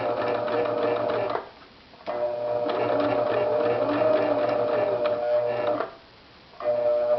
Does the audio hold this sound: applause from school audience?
no